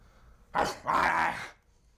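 A person imitates a dog, barking twice: a short woof followed by a longer, drawn-out growling bark, close up.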